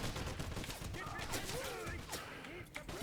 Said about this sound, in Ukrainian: Знову цей, цей кулемет.